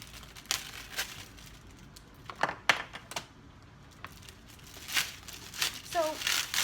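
Packaging of a Start Planner 2017 Hustle Weekly being torn and opened, with intermittent crinkling and ripping bursts at close range, fairly quiet, alongside soft speech.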